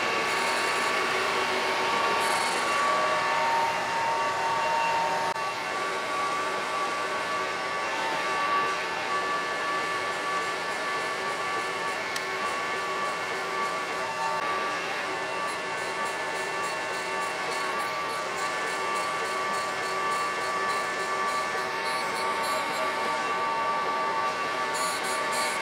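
A Brown & Sharpe automatic surface grinder runs steadily in a workshop, giving a constant, even mechanical whine and hum with a faint high tonal ring, unchanging for about 25 seconds and with no talk.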